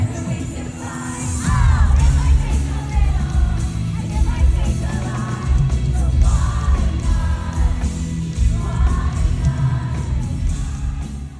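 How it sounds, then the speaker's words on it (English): A concert crowd at a show yells, whoops and cheers loudly for a song, a dense and continuous roar of many voices. "The crowd went wild for that song."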